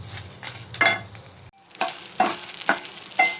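Shallots frying slowly over a low flame in coconut oil for Kerala vulli theeyal. A close, moderate sizzle is broken by several bright clinks and scrapes as the spoon stirs the pan at a steady pace.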